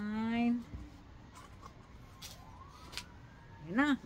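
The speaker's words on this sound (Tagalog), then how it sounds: "Ayan na, may sirena na." An emergency vehicle siren wails in two short rising-and-falling bursts, one at the start and one at the end, heard at a moderate distance over a low background hum.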